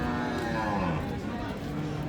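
A Friesian cow at a cattle market gives one drawn-out, loud moo close by, with the crowd's chatter and voices running underneath.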